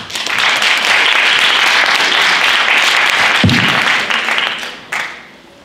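Concert audience at a Ukrainian city festival gala gives loud, dense applause that holds steady, thins out near the end and stops, with one sharp knock partway through.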